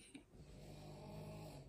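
A dog snores quietly nearby indoors, one soft drawn-out rasping breath rising out of near silence, with no talking over it.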